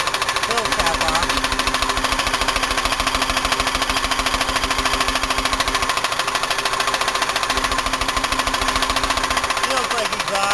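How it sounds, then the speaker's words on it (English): A Buick 3800 engine running with its oil fill cap off gives a loud, steady, rapid pulsing boom with strong low thumps, continuous throughout and close to the microphone. "I can hear a kind of a booming noise when I take the fill cap off."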